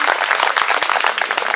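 A concert audience clapping for a tenor saxophone soloist of an amateur orchestra, loud close crowd applause with individual claps standing out in a brisk, even burst.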